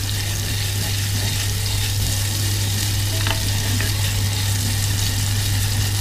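Food fries in a pan with a loud, continuous sizzle as it is stirred, steady throughout with no talking.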